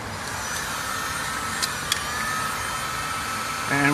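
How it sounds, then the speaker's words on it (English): A small heat gun blows hot air to shrink heat-shrink tubing over a butt splice on a wire, a steady, even whirring hiss with a couple of brief clicks and no talk. "And I got a little heat gun."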